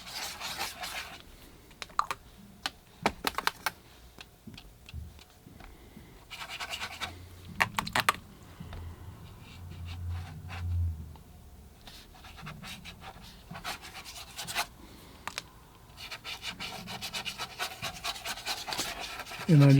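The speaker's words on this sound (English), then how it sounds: "And I just scrub around a little bit of wash on the paper." A paintbrush scrubs a watercolor wash on paper, close and quiet, with irregular rubbing and scratchy bristle strokes in uneven bursts and brief soft pauses.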